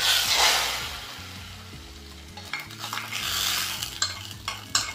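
Tempered mustard seeds are tipped into boiling rasam and stirred, bringing a brief burst of sizzling followed by a soft bubbling simmer and a few light scrapes and clinks of a spoon against the pot.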